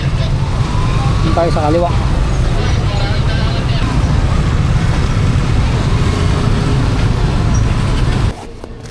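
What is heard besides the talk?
road traffic noise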